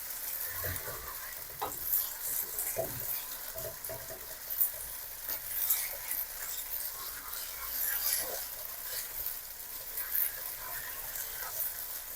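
Noodles stir-fried in lard for a Thai pork and mixed-vegetable gravy noodle dish give off a steady sizzle, with repeated scraping and stirring strokes of a utensil in the pan, heard close up.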